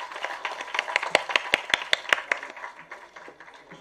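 Audience claps at a Tamil film music and trailer launch event, a burst of sharp hand claps building to a peak and then thinning out over a few seconds.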